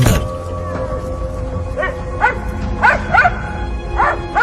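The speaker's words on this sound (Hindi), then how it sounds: "जहां से पॉमी के भौंकने की आवाज आ रही थी।" Several short barks or yips from a Pomeranian come in a loose cluster against a steady background hum, moderately near and fairly clear.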